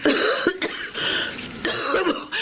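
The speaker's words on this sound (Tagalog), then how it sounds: "Ang ubo ninyo parang lumalala eh." A person with a worsening cough coughs and clears their throat a few times in short harsh bursts, close by, with a brief pause between fits.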